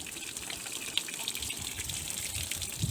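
Brownish water gushes steadily from a tractor's cooling system as it is flushed out after poor-quality antifreeze, a continuous close splashing wash on a Dongfeng 244 with no talk.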